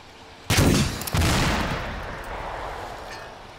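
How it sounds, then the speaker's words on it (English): A single loud, close blast from an RPG rocket hitting in the military video game Arma 2 bursts out suddenly, then rumbles and fades over a few seconds. "Pretty big explosion for an RPG."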